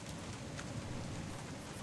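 Rain falling in the video game Joker Show, a faint, even hiss of steady rainfall with no other sounds over it.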